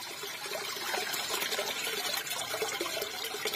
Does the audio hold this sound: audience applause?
no